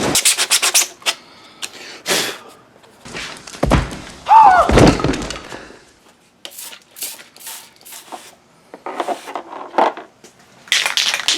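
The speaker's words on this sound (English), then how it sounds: "I'm going to take 80 grit sandpaper and go against them so I get them all smoothed out" A 3D printed bumper filler plate for a 1986 Oldsmobile is worked by hand with 80 grit sandpaper. Close, scratchy rubbing strokes come in irregular bursts, with a few dull thumps and short pauses between passes.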